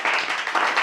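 Loud, dense clapping from an audience at a fasting prayer meeting, steady broadband applause filling the whole moment with slight swells, no speech over it.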